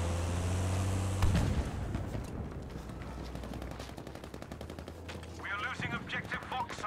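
Sustained medium machine gun fire in Battlefield V, dense rapid bursts rattling close and loud, with a deeper engine-like drone underneath and brief chatter near the end.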